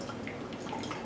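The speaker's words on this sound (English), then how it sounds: "After 10 seconds, pour out the water" Warm rinse water is poured from a teapot into a pitcher while brewing ripe Pu-erh tea, giving a faint, steady trickling splash that runs the whole time with no talking.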